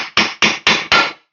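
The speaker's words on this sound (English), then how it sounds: "So if we get a punch, we punch a hole" A punch struck with a hammer against the engine case of a Honda CR125 Elsinore, five sharp metallic blows in an even rhythm, close and loud with short ringing decays.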